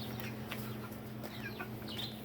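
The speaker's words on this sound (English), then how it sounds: "Chickens are still at it. They are loving this." Homestead chickens cluck and chirp in short bursts over a steady low hum, moderately close, with no talking.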